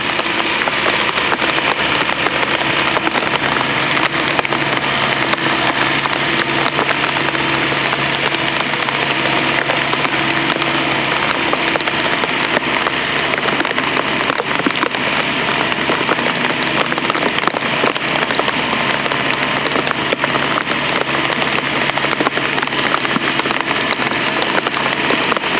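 A Belarus MTZ J8200 tractor engine runs steadily out in a field during a rainstorm, its droning idle blended with constant loud rain hiss, unchanging throughout.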